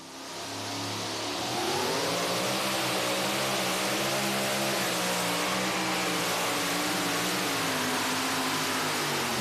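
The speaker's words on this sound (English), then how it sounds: "you can hear that engine at the end of the pass" A 1923 Ford T-Bucket pulling vehicle at a truck and tractor pull, its engine revving hard and loud, with rising and wavering pitch sweeps, building over the first two seconds and then sustaining a roaring drone.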